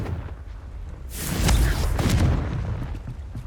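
Confringo fire spell in Hogwarts Legacy bursting into a deep, booming explosion that swells after a quiet start and then rumbles on as it fades.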